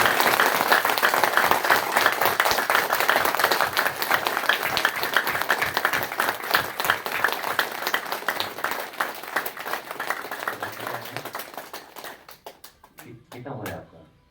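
An audience at a yoga session claps for about fifteen seconds in a dense, steady wash of hands that thins out and fades near the end.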